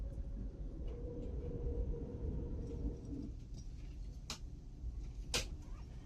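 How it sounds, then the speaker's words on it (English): A steady low rumble of an Acela Express high-speed train running through the North River tunnels into Manhattan, with a faint hum that drops away partway and a couple of sharp clicks later. "We are now about to dive into the North River tunnels that take our train into Manhattan"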